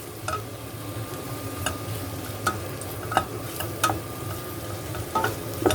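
Aromatic vegetables sauté gently over very low heat as the base for a shrimp sauce, a steady soft sizzle with a few light clicks of a utensil against the pan, no voices.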